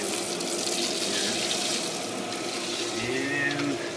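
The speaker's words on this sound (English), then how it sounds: "We have water flowing through our manifold" Water rushes steadily through the manifold of a Hayward H350FDN pool heater after a heat exchanger repair, a constant close hiss and gurgle with faint voices in the background.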